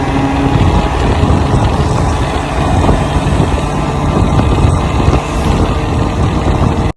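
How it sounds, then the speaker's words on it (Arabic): Loud, steady engine roar from a motorbike running at around 70–80 km/h, with heavy wind buffeting mixed in, continuous throughout until it cuts off abruptly at the end. "ها هو دابا راه خدام الموتور"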